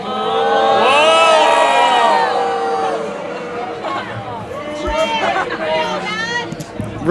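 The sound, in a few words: crowd reacting in disagreement to Charlie Kirk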